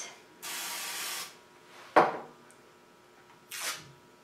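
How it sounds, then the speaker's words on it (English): Cooking spray hisses onto the cut face of a halved spaghetti squash in two steady bursts about a second long, then a short clack and a final brief spritz, close and clear in a quiet kitchen. "Now you're going to spray the face of it and lay it face side down on your baking sheet."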